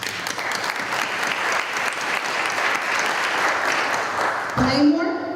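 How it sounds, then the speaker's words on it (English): A crowd applauds steadily for several seconds, dense clapping filling the room before it cuts off abruptly. "Please give a big round of applause to Prodigy Tees"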